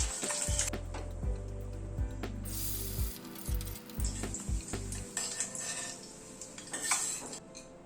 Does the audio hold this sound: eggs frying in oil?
yes